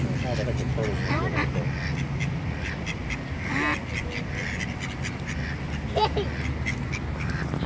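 Ducks quack intermittently at a pond where ducks, turtles and fish are being fed, short scattered calls mixed with outdoor background noise while people talk nearby.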